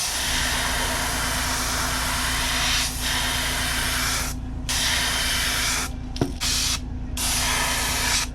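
An airbrush sprays red paint onto a crankbait fishing lure in a steady, close hiss, broken by several short pauses and a brief click before the spraying resumes.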